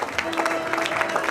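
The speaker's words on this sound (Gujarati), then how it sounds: "જોરદાર તાળી કે દીકરીને વધાવજો" A crowd at a Diksha Mahotsav ceremony claps for a girl taking initiation, brisk scattered applause with a sustained tone running underneath.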